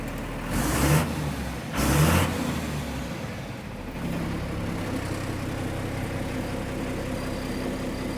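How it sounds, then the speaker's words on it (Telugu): Two sharp throttle blips from a 2012 Tata 12-tyre truck engine break out of its rumble, then it settles into a steady, even idle that carries on alone. "ఇంజన్ బీటింగ్ కూడా బాగుంటుంది ఫ్రెండ్స్"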